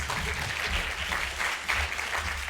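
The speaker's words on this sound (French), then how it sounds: "avec Darit, que j'accueille ici et qu'on applaudit." Steady audience applause at a science talk session, a short dense wash of clapping heard from within the room.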